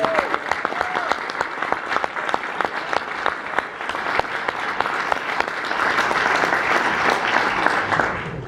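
An audience at Marquette claps to welcome Wisconsin Senator Ron Johnson, a sustained burst of many hands close and loud, swelling slightly toward the end with no speech over it.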